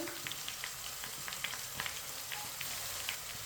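Crushed ginger and garlic fry in a pan with a steady, dense sizzle, a constant hiss flecked with small pops, close and unbroken throughout.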